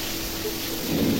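Bitter gourd stir-fries in oil in a pan, a dense, steady crackling sizzle like rain on a surface, swelling a little louder toward the end of the brief stretch.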